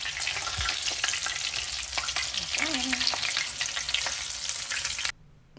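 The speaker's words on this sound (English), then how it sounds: "the other one I'm just going to flip over so that it has more time skin side down," Chicken pieces fry skin side down in a hot pan, a dense, steady crackling sizzle that fills the scene up close and cuts off abruptly near the end.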